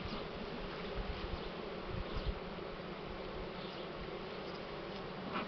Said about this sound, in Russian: О, застряла пчела.